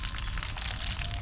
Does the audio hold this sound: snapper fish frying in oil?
yes